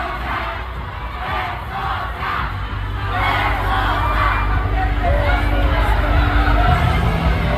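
Young people in a crowd shouting together at a political rally in Metro Manila, a loud, dense roar of massed voices that swells and holds steady, with no single voice standing out.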